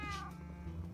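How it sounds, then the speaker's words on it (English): A cat in the Minecraft video game lets out a single clear meow near the start, over a soft steady background. "The cat is so cute."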